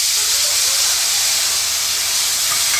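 Steady loud hiss of water sizzling and steaming in a hot pan, continuous and close throughout with no voices.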